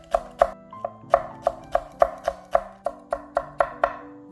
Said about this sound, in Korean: 풋고추도 반을 갈라서 씻재 송송 썹니다